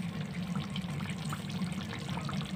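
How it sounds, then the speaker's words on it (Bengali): Kewra water is poured into chicken chaap cooking in a pan, a soft, steady liquid trickle over a low background hum. "এখানে আমি দিয়ে দেবো 1 চামচ মতন কেওড়া জল"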